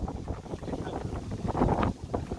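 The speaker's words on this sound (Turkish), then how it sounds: "ya çok rüzgar çıktı abi niye böyle oldu ya?" Strong gusting wind blowing in from the sea buffets the microphone in a continuous rough roar, loud and close, with no voices.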